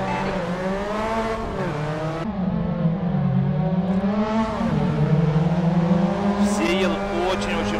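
Mazda race cars in a tightly packed field in Assetto Corsa rev and accelerate off the start, a loud sustained engine drone that climbs and shifts pitch, with a voice talking over it.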